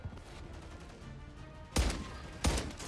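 Two sharp, loud gunshots from Warzone 3 gameplay crack out in quick succession, each with a short tail, following a stretch of quiet game ambience.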